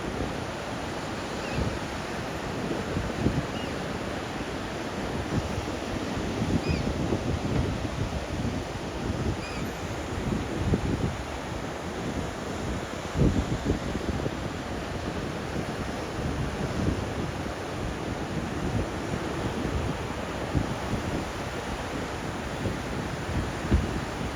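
Ocean waves break steadily on a shore where surfers wait offshore, a continuous loud wash of surf mixed with gusting wind buffeting the microphone, with no voices.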